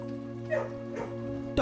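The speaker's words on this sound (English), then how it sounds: "Doggy!" A dog in the video game Blue Prince gives a couple of short, yipping barks, close and fairly quiet, over a steady hum of game music, with a voice speaking briefly alongside.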